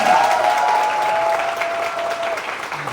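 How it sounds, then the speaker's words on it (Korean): An indoor audience at a presentation meeting claps steadily for about three seconds, a dense, even wash of applause with a faint murmur of voices. "박수로 많이 쳐주시고"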